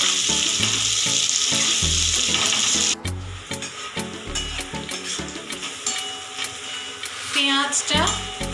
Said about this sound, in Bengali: পেঁয়াজটাকে একটু লাল লাল করে ভাজবো